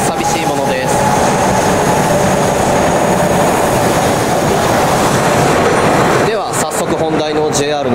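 Sapporo subway train accelerating hard, a loud continuous rumble with rising whine and rail clatter for about six seconds before it eases into quieter rattling; no voices.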